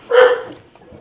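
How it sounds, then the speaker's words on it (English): A dog gives a single short, loud bark close by in an outdoor kitchen setting, followed by quiet with a faint trailing murmur. "And that's the dog barking."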